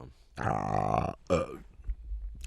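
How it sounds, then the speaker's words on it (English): A loud, drawn-out human burp lasting close to a second, followed by a shorter second belch, then quieter low noise; no talking. "That just echoed throughout my whole head when I burped"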